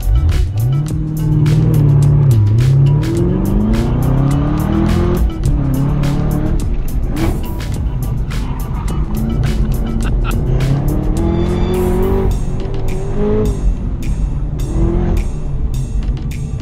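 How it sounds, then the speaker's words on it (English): A Chevrolet Camaro ZL1 1LE takes a hot lap at SEMA. The loud engine revs rise and fall through the gears, and tires squeal repeatedly through the corners, steady and close throughout. "So what are we going for a hot lap in, you might ask? The Camaro ZL1 1LE."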